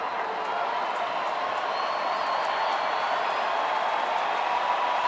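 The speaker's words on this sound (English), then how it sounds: "Healthy crowd on this Friday night. Trying to cheer a strikeout for Thayer to close out the top of the 8th inning." A baseball stadium crowd on a Friday night cheers for a strikeout in the top of the eighth inning, a steady distant roar of voices and clapping holding evenly throughout.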